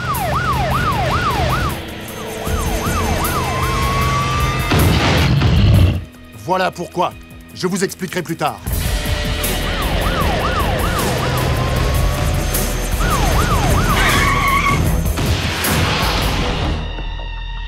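An old police patrol car in a cartoon races along with its wailing siren cycling loudly, engine roar and a tire skid in the middle, while characters talk over it.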